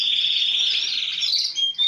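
Male canaries sing in an aviary, a continuous bright warbling trill that runs steadily and close for the whole span, ending in a few sharper whistled notes.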